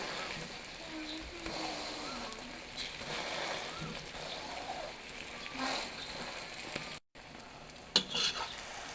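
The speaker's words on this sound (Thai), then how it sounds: "กลับแล้วก็ทอดอีกข้างหนึ่งต่อให้สุกเหลืองได้ที่ตามที่ต้องการค่ะ" A cha-om (acacia leaf) omelette fries in a pan with a steady, close sizzle, a brief dropout partway through, then a short clatter near the end.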